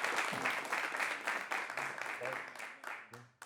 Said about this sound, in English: So, big round of applause for Dennis one more time.